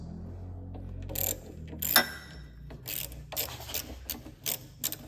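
A wrench ratchets on 10 mm bolts on a three-wheeler's engine, giving close, crisp bursts of clicking in an uneven rhythm over a low background hum.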